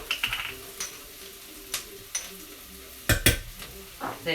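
Cumin spice dropped into a hot pan while making Indian dahl, a faint sizzle under scattered stirring scrapes and clinks of utensil against pan, louder clatter near the end.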